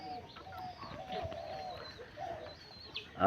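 Several pet birds coo and murmur softly nearby in a steady, low chorus with occasional clucks.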